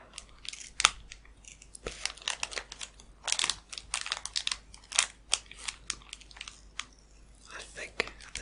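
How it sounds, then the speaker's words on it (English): Snack wrapper being carefully cut open with scissors: soft, close snips and crinkles of plastic packaging come in irregular bursts, with a quiet whispering voice at times between them. "So I'm just going to very carefully cut this part now, and hopefully I won't cut any of the packaging"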